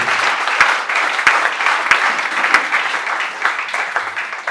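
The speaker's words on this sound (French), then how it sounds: "Let us clap for God's glory." A church congregation claps steadily for God's glory, a dense, close wash of applause with a few sharp louder claps standing out, no voices over it.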